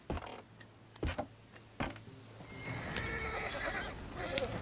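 Horses in a western video game neigh in loud whinnies over rhythmic hoof clopping, close by, with a faint voice briefly underneath.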